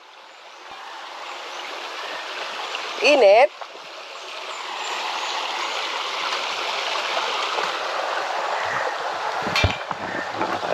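A clear river in Matnog runs with a steady, fairly loud rushing flow that builds toward the end, with a brief voice early on and some footsteps or splashing near the close.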